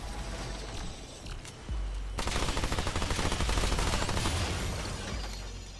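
Rapid automatic gunfire from summoner class guns in the video game Remnant 2, a dense burst of quick repeated shots following a louder single blast, close and loud over the game's background noise.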